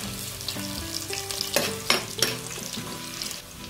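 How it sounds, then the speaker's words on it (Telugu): Cashews fry in hot oil with whole spices and onion, a continuous crackling sizzle broken by a few louder stirring scrapes and clinks near the middle, with a faint tonal hum underneath; no voices. "చూడండి జీడిపప్పు కూడా వేగిపోయింది"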